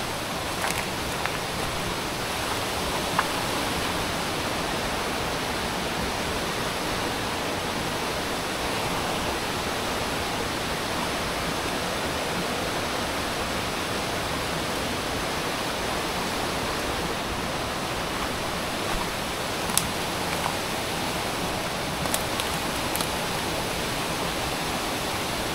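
Steady, dense rushing of flowing river water fills the whole stretch, loud and unbroken, with only a few faint clicks on top.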